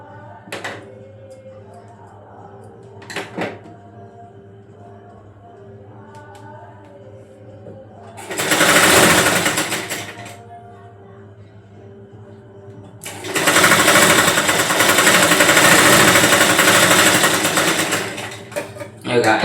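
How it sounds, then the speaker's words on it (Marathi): An edge overlock sewing machine stitches along a fabric strip in two loud, sustained runs of buzzing motor, the second longer. Quieter talk and handling sounds come between the runs. "एज मशीन कड्यावर मारायची जेणेकरून पट्टी अशी फिनिशिंग मध्ये तुमची दिसून येईल"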